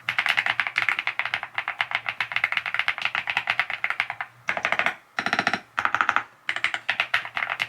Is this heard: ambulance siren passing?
no